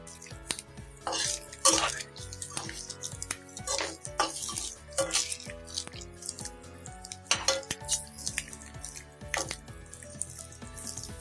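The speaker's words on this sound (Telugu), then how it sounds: "సో ఇలా అన్నీ వేసుకొని ఒక లైట్గా అలా ఫ్రై చేసుకుందాం" Halved boiled eggs fry lightly in a pan for egg gravy masala, with a soft continuous crackle broken by frequent close clinks and scrapes of a utensil against the pan.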